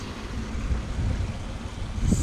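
Water in Crowden Great Brook rushes over rocks in a continuous broadband wash, steady and close, with no talking.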